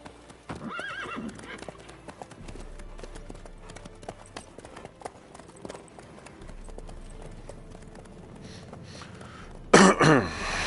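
Horse galloping in The Witcher, hooves drumming steadily under game ambience, an early whinny, a throaty cough-like sound, and a loud neigh bursting out near the end.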